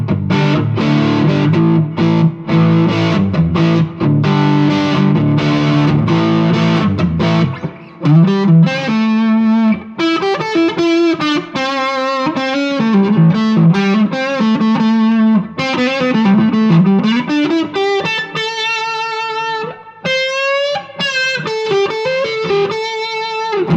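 Harley Benton 25th Anniversary SC Goldtop Les Paul style electric guitar on the neck pickup, played through distortion: loud chugging chords give way to sustained, singing lead notes and bends, close and unaccompanied.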